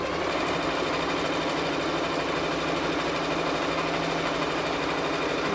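A sewing machine runs steadily, stitching down a seam on an Iro and Buba garment, with a continuous close motor whir and fast needle rhythm throughout, no voices.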